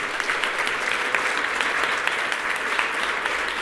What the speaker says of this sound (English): Could we have a round of applause for Irene?